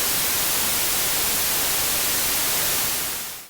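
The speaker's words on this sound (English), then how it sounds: "Here is what white noise sounds like." Steady hissing white noise, flat and unchanging, fading out abruptly at the very end.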